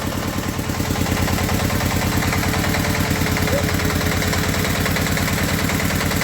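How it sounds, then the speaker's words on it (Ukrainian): A tractor or machine engine idles steadily after a repaired TsS75 hydraulic cylinder is put back in place, a continuous loud rumble with an even rhythmic throb throughout. "На холостих оборотах все працює"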